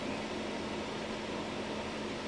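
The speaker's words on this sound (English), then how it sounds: "I can faintly hear the air conditioner behind me" Steady broadband hum of a room air conditioner running behind the listener, a constant even whoosh with no breaks, fairly loud and alone.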